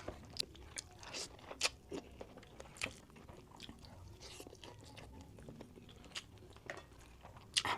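Fern cooked in coconut milk with dried anchovies being eaten up close, soft irregular crunching and chewing with small wet clicks, quiet and intimate.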